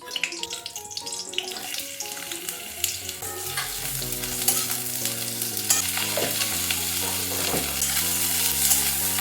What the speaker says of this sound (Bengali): একটু তেল দিয়ে দিলাম দিয়ে আমি উচ্ছেগুলো ভেজে নিচ্ছি